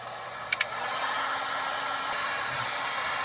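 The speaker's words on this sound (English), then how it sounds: "I'm gonna use this heat gun." Heat gun warming a water pump pulley bolt on a GM 5.3 Vortec LS engine: a steady, close blowing roar throughout, with a couple of sharp clicks near the start.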